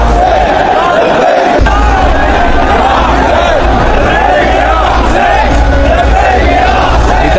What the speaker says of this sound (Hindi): लब्बैक या हुसैन की नारेबाजी हो रही है